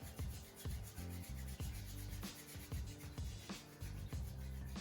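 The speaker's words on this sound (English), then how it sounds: "Quickly rub through the hands, creating warmth and energy." Hands rub briskly together in a yoga flow, a rhythmic back-and-forth friction repeating steadily over a continuous tonal background.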